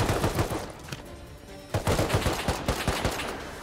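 Rapid automatic turret gunfire in the survival video game Rust, loud bursts of sharp shots in quick succession with a brief lull in the middle before the firing resumes.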